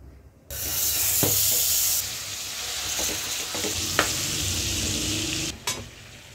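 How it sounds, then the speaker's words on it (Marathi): Butter dropped into a hot pan for butter chicken, bursting into a loud, continuous sizzle and hiss that holds steady, broken by a few light clinks of a utensil. "आता भांडं गरम झालेलं आहे। आता आपण त्यात लोणी टाकू।"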